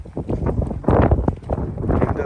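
Gusty wind buffets the microphone outdoors beside a dirt bike barn find, a steady low rumble swelling louder midway and continuing throughout, with a person talking over it.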